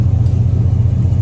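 A Chevrolet Silverado engine idles while warming up, giving a steady, close, low rumble that holds even and unbroken with no voices.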